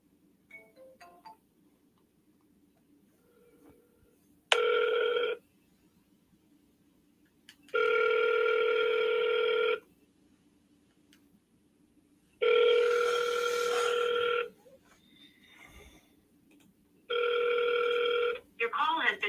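On an outgoing phone call, the ringback tone sounds four times as steady buzzing tones of about two seconds each, separated by silent gaps, clear and close with no talk over it.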